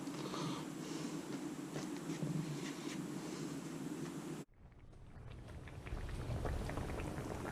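Jaffna crab curry simmers on low heat in a pot, giving a steady, faint bubbling hiss that runs throughout and briefly dips midway before resuming.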